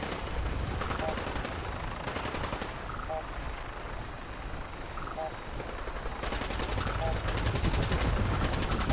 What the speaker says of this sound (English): Yes, yes, keep shooting that.